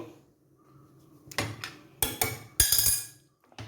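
A utensil stirs and scrapes through mashed potato curry for poori masala in a metal pan, giving a run of sharp clanks and knocks in irregular bursts, loud and close, with quiet gaps between them.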